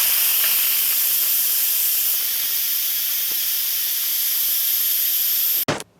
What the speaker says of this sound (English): So the Instant Pot has stopped. We're gonna tap on that vent tab.